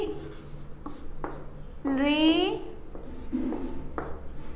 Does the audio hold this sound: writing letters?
yes